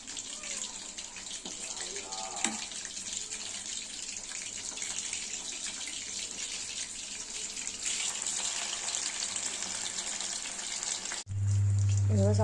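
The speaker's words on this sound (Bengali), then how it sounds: "এইভাবে আমি সব কটা মাছ ভেজে নেব।" Bombay duck fish pakoras frying in hot oil give off a continuous close hiss and crackle that stays steady throughout, ending in a brief low hum.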